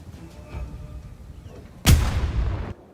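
A single loud artillery shot rings out in Bannerlord after a stretch of quiet background noise, a sharp crack with a rumbling tail that cuts off after under a second.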